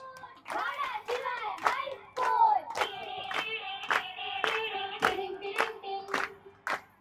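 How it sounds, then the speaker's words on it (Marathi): A crowd at a tree's third birthday celebration with a lezim troupe claps along in an even rhythm, loud and close. Children's voices and chanting mix with the claps. "टाळ्यासोबत सगळ्यांनी टाळ्या पण वाजवायच्या."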